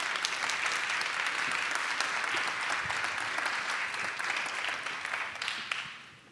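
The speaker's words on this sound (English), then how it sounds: "Please join me in a warm round of applause for Amy Ashby and Lindbergh Matillano" Audience applause at a tech conference session, dense steady clapping from a crowd filling the room throughout, fading slightly at the end with no voices.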